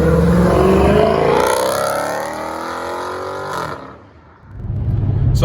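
A Dodge Challenger or Charger with its mid mufflers deleted drives close by, the exhaust rising through a loud acceleration, easing off, briefly dropping away, then rumbling again.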